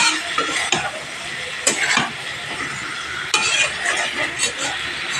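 Potatoes, stems and papaya frying in spice paste in a pan, heard as a steady sizzle with several sharp scrapes and stirring clatters at irregular intervals, close and moderately loud.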